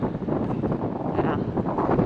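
Steady wind buffets the microphone aboard a Nordhavn 43 trawler near the Columbia River bar, a low, rumbling roar that gusts unevenly throughout.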